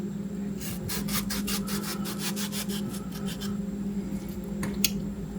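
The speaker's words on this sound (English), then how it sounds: "I'm going to slice the tomato about 1/4 inch thick slices." A knife slices a green tomato into quarter-inch rounds, giving a quick run of crisp cutting strokes, then a few sparser cuts and a sharp tap near the end, over a steady low background hum.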